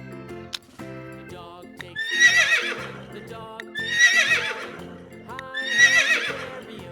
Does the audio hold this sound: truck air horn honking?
no